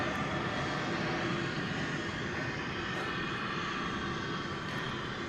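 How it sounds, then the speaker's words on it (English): An American Airlines Boeing 737-800 departs Dallas Fort Worth Airport bound for Santa Ana, heard as a steady, broadband jet engine roar at moderate distance without voices. "Looks like American Flight 1884 to Santa Ana, California, 737-800."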